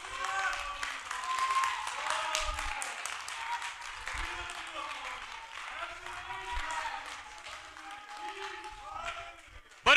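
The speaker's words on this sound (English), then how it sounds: "Let's give the Lord a hand clap of praise" A church congregation gives hand claps of praise during a sermon, with a moderate, scattered clapping wash throughout and a preacher's voice and crowd sounds mixed in.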